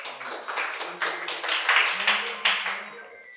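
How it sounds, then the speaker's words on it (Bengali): Audience applause at a quiz competition held at a medical college and hospital, a steady round of clapping from a crowd that swells and then fades out over a few seconds. "একটা হাততালি হয়ে যাক জোরে।"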